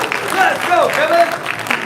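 A small group at a transit station opening ceremony claps and cheers as the CEO steps up, a brief burst of applause with whoops and voices mixed in.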